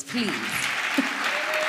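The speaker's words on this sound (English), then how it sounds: "I think we should give them another round of applause" Audience applause for a panel at a women-in-sport dialogue event, steady broadband clapping filling the room throughout, with a speaker's voice briefly over it.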